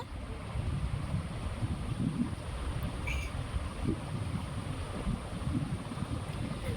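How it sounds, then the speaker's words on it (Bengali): Chopped banana flower boils in a pot of water, giving a steady low bubbling rumble up close with no talking. "এবার একটা পাত্রে জল দিয়ে মোচাগুলো সিদ্ধ করে নেব"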